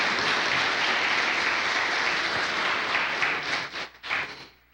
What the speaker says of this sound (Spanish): Quiero que den un fuerte aplauso